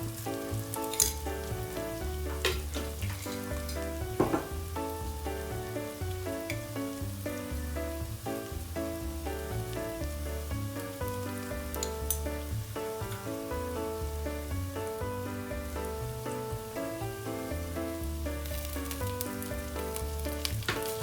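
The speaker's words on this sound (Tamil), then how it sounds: "வதங்கியதும் ஒரு தேக்கரண்டி வெந்தயமும் ஒரு தேக்கரண்டி பெருஞ்சீரகமும் போட்டு கிளற வேண்டும்" Fenugreek and fennel seeds frying and being stirred in a pan for a Tamil crab curry, giving a steady, dense sizzle throughout with occasional scraping and clinking from stirring, and no talking.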